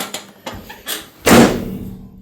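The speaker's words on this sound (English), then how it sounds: "door closes nice and straight" A car door on a project car being reassembled in a home garage, with a few light knocks and taps followed by one solid, loud closing thud that rings briefly in the room.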